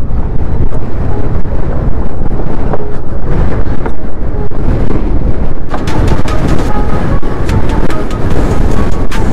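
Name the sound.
strong wind on a bridge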